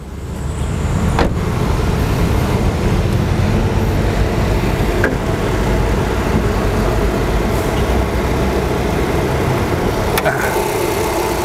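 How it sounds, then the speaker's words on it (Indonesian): A Nissan Almera's engine idles steadily at close range with the air conditioning running, a constant low rumble with a faint mechanical whir and a couple of brief clicks, no voices. "Kita dengerin suara mesinnya ya."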